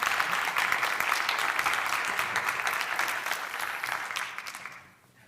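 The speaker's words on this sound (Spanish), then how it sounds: "Así que un aplauso para ellos" Audience applause at a book panel on local authors, steady and dense from the start, then fading out in the final half second.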